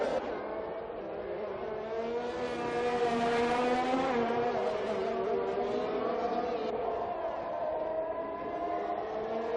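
F1 2021 race cars in the video game at the Singapore GP, engines whining loudly as they drive into the pits, revs rising and falling steadily with no talk.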